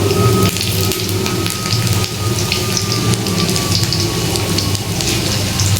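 Pakoras from a rice-based recipe frying in hot oil in a pan to brown, giving a steady, dense crackling hiss throughout with no voices.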